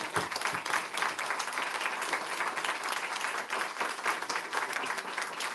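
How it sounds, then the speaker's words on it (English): Dense, steady applause from a large audience, loud and continuous throughout with no talking. "give Mr. Walter Mosley a round of applause"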